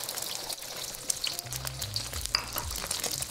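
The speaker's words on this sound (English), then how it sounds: "After beating the eggs, we'll add them into the wok." Beaten eggs fry in a hot wok with a soft, crackling sizzle and faint spatters. A brief low rumble sounds midway.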